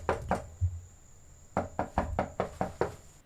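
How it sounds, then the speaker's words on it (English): Someone knocks on a door, two raps, a pause, then a run of about seven firm knocks, close and distinct over a steady background hum. "We knock on the door."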